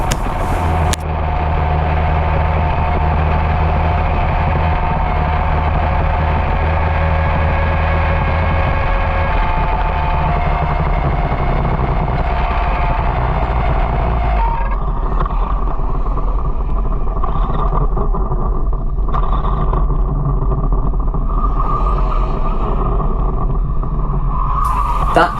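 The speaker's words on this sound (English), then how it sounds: "I'm going to shut up for a second and let you listen to the motor." Racing kart motor at Whilton Mill track, a JKC R6 under test, droning steadily and loudly throughout with a sustained buzzing whine whose pitch shifts partway through as the engine revs change.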